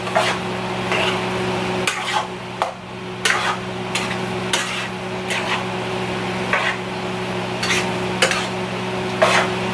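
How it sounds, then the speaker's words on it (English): A utensil stirs tomato sauce through cauliflower rice in a pan, making repeated soft scraping strokes over a steady low sizzle and hum, close and moderately loud. "You mix it. Make sure all the tomato sauce gets on all of the cauliflower."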